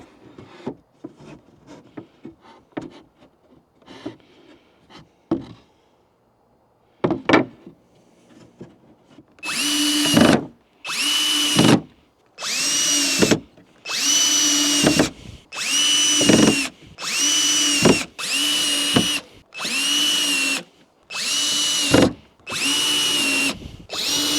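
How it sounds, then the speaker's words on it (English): Power drill driving screws into a raised garden bed, first a few scattered clicks and bumps, then a regular series of about ten loud, short bursts of whirring as each screw is sunk. "And then we just got to screw it in everywhere with ease."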